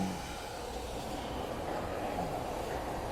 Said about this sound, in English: This is the train station in the opening.